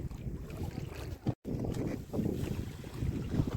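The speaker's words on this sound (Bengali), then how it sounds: "আকাশ যেমনই মেঘলা তেমনই প্রচণ্ড হাওয়া প্রচুর হাওয়া হয়েছে দেখুন" Strong monsoon wind over a river in the Sundarbans buffets the microphone in continuous low, rumbling gusts, close and loud, with a brief dropout partway through.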